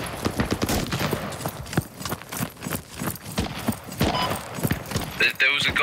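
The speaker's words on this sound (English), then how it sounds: "There's enemy gunfire coming from 300 northwest-ish." Enemy gunfire in the tactical shooter Squad on the Kohat Toi river valley map, bursts of shots and rattling fire mixed with footsteps, heard under continuous talking.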